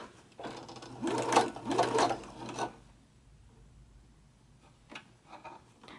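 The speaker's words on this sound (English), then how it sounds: "start sewing around the edge of the strap" Sewing machine stitching around the edge of a messenger bag strap: a fast, close mechanical whir running in two short bursts, then stopping, followed by faint clicks in a quiet room.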